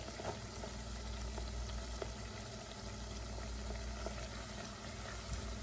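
Celery sautéing with partly cooked onions in a pan for black-eyed peas gives a steady, dense sizzle throughout, with faint ticks of stirring and no voices.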